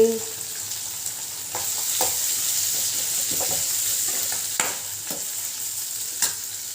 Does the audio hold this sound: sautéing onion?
yes